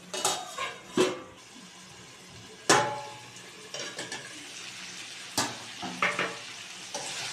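Mutton being stirred and fried in a pan for Bengali kosha, with scattered scraping and clanking strokes over a soft, steady sizzle, fairly faint and close.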